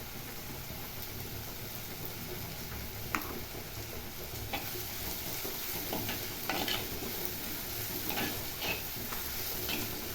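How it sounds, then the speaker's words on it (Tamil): Onions sauté in a pan with a little salt until golden brown, a soft continuous sizzle with occasional spatula scrapes and ticks, close but modest in level. "வெங்காயம் நல்லா கோல்டன் ப்ரௌன் கலராக வதங்கட்டும்."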